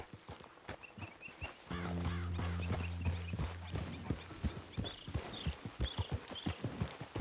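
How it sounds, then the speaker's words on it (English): Horse hooves clip-clopping in a steady walking rhythm while riding in the video game Red Dead Redemption 2, close and clear, with a sustained tonal sound briefly underneath midway. "Grab your horse and let's go."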